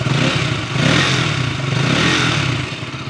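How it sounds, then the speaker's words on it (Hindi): The exhaust note of a KTM RC200 MotoGP Edition sports bike, a close, loud engine rumble that swells with a couple of revs, with no voices over it. "अब आपको इसी बहाने एग्जॉस्ट नोट भी सुना ही देता हूँ।"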